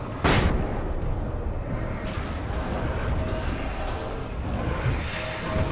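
A flashbang grenade goes off in the video game Alan Wake: one sharp, loud burst near the start, then a dense, rumbling wash of noise that stays loud to the end.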